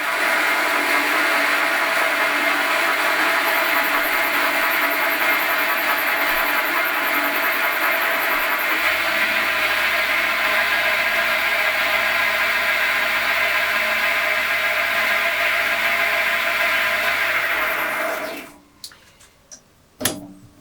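Small DIY lathe machining a caprolon (cast nylon) workpiece, its motor giving a steady loud whirring hum with a faint lower drone from the moving carriage partway through, then cutting off near the end, leaving brief clicks.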